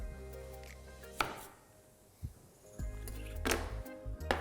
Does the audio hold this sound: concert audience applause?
no